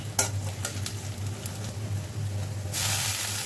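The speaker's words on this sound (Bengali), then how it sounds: "এখন আমি শাকটাকে রসুন, পেঁয়াজ, কাঁচামরিচ দিয়ে বাগার দিয়ে দেবো" Garlic, onion and green chili sizzle in hot oil as a tempering for boiled greens, a close, steady frying hiss with a few sharp stirring clicks early on, then a sudden louder surge of sizzle near the end.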